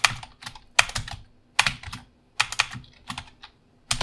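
Keystrokes on a computer keyboard while entering JavaScript code, arriving in quick irregular bursts of close, crisp clicks separated by short pauses, with no voices.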